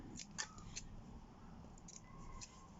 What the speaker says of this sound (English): So I'll just cut.